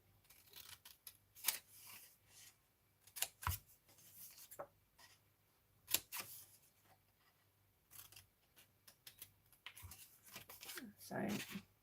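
Scissors cutting the corners off paper for a snail mail kit, a series of close, quiet snips and paper rustles in irregular bursts.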